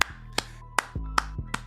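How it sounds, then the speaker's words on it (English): Five separate hand claps, loud and close, spaced roughly every third of a second to half second over a quiet hum, with no talking between them. "I gotta clap."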